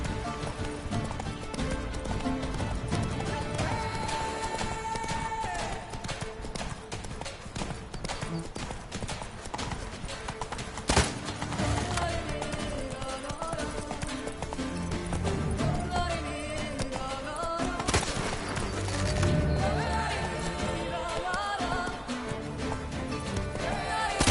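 Horse galloping in The Witcher 3 video game, a continuous rhythmic clip-clop of hooves running under a busy game soundtrack of music and effects, loud and steady throughout.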